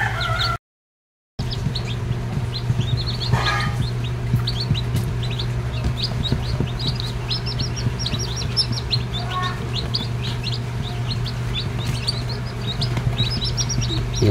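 A newly hatched chick, recovering from splayed leg, chirps with repeated high, thin peeps throughout, along with occasional clucks from other fowl over a low steady hum.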